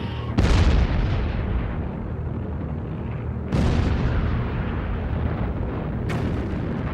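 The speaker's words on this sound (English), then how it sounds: "An old German battleship opened up its 11-inch guns on fortifications in the Polish harbour of Danzig" An old German battleship firing its 11-inch guns at the Polish harbour fortifications of Danzig: three heavy booms, each with a long rolling decay, loud and spaced a few seconds apart.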